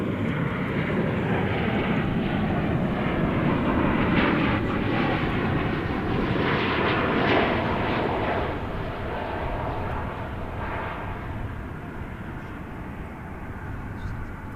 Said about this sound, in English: Yonder cometh the flight from Bozeman.